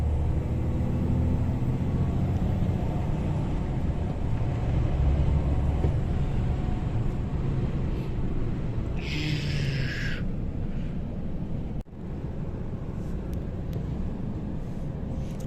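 A new DAF XG+ truck accelerating on a foggy autumn road, heard as a steady, full engine drone with road rumble from inside the cab, broken once by a brief dropout.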